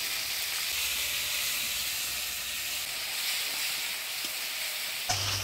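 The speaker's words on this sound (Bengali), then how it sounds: "মশলাটা আমি ভালো করে কষিয়ে নিলাম" Spice paste of onion, garlic, cumin, ginger, chilli and tomato pastes with turmeric and salt fries in a pan for a village-style fish and potato curry, a steady loud sizzle and hiss throughout, with a brief clatter near the end.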